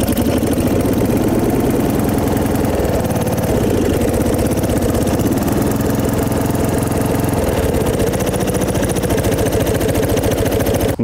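A lawn tractor engine runs steadily at a loud, close idle throughout, its low chugging rhythm constant with slight wavering and no voices.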